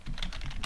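A computer keyboard clacks under quick, close keystrokes, a brief burst of typing.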